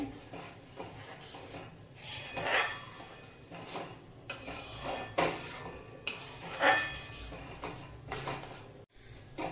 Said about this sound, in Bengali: বন্ধ করার পরেও একটুক্ষণ নাড়িয়ে নিতে হবে, নইলে নিচে লেগে যাওয়ার ভয় থাকবে